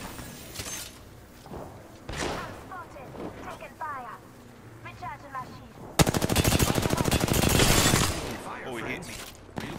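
Apex Legends gunfire: scattered shots early, then a loud, rapid automatic burst of close gunfire lasting a couple of seconds, with players talking around it.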